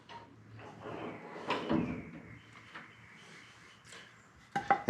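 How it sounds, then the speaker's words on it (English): Access door on a Coleman or Fleetwood pop-up camper being lowered back into place, giving a few thuds and clunks of the door settling amid quieter handling noise, with a sharper knock at the end. "Now we'll set the door back down."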